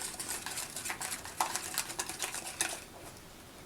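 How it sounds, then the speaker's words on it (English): A wire whisk beating a dressing in a bowl for a pasta salad, quick metallic scraping strokes ticking against the bowl in an uneven rhythm, fairly soft and close with no talk. "I'm just going to take my wire whisk. Whisk this up really well."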